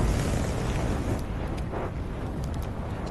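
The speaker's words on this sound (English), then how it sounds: "he kind of does a short little fire burst of the flamethrower over and over" Short fire bursts from a flamethrower in a horror film sound effect redesign, a dense continuous roaring whoosh that stays loud and broad throughout with no voices.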